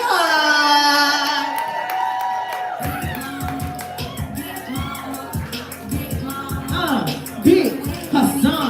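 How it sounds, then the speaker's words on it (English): Crowd at a live poetry open-mic cheering and whooping for a poet, with the host talking over the noise; the crowd noise continues throughout, and a second voice briefly says a name. "Start clapping."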